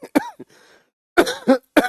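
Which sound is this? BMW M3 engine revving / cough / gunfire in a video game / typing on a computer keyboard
cough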